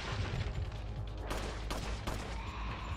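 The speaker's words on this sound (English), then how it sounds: "I couldn't hear you well because of the sound of my shotgun" Repeated shotgun blasts from a game character's weapon in Resident Evil 4 on PS2, dense loud bursts layered over a busy background of game noise, with sharp broadband hits near 1.3 and 2.1 seconds.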